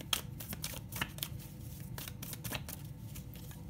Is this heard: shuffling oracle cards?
yes